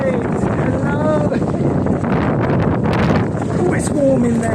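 Gusty wind buffets the microphone on an open cruise ship deck beside the deck 8 hot tub, a steady loud roar with whistling tones drifting over it throughout.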